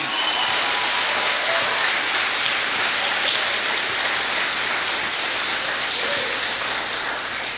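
A church congregation applauds the Lord during a sermon, a dense, sustained wash of many hands clapping at once, loud and even throughout, almost like heavy rain.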